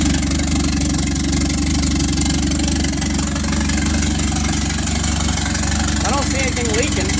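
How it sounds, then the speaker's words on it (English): A turbocharged 2.3L 1984 Ford Ranger with a blow-through Holley 350cfm carburetor idles steadily, a loud, close, even rumble with a low throb, while people talk over it. "Actually, idle's fairly smooth."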